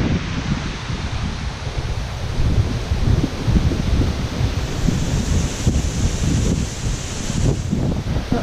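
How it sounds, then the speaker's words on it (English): Wind blusters against the microphone in rumbling gusts at an abandoned zoo, a continuous low roar rising and falling with no speech. "It's pretty windy in here. Or out here, I mean."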